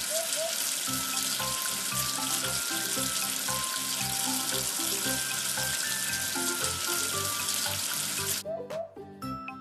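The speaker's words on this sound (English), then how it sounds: "Wash away the soap with water." A cartoon water effect rinses soap off a number 16: a continuous splashing, sizzling spray over bouncy children's music that cuts off near the end.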